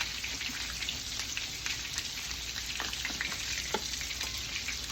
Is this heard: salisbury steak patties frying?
yes